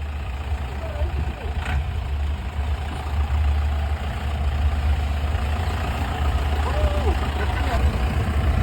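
A vehicle's engine idles steadily as it creeps down a steep slope, a low continuous rumble running throughout with faint voices and rustle over it.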